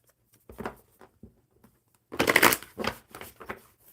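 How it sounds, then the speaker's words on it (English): A deck of playing cards is riffle-shuffled at a table, giving a quick papery burst after a few light taps and handling clicks. It is close and fairly soft, with no talk. "One more good shuffle."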